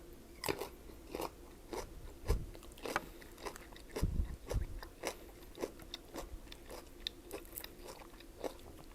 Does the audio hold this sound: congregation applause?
no